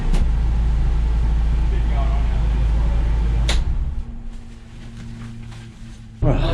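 A BMW race car at a track rumbles with a loud, steady low engine drone while reversing, then drops to a quieter idle with faint clicks before a brief rise at the end; a voice speaks over it.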